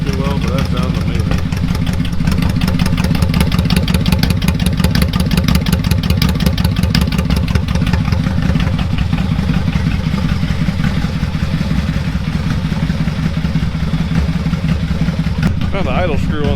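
A new motorcycle engine idles close by, a loud, steady clattering throb that runs without a break and picks up a slight rise in pace near the end.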